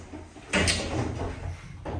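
Otis lift doors at Cavendish House, a Cheltenham department store, slide shut in one rolling, muffled movement that rises sharply and holds before a second softer swell near the end, heard close up with a steady hum underneath.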